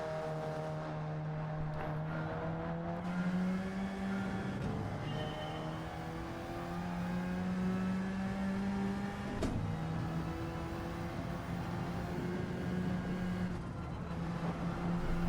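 Race car engine from Gran Turismo 7 on the Eiger Nordwand circuit, a steady droning tone that rises and falls with revs through corners, with a faint tyre slide in places, loud and continuous without talk.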